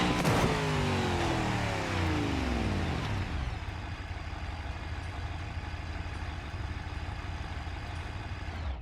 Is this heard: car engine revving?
yes